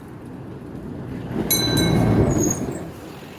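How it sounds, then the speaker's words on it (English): Trolley tram rolls past on street rails, a broad rumbling swell of wheels with brief high squeals and a bell-like ring as it goes by, outdoors with steady traffic noise and no talk. "Oh, look at that tram."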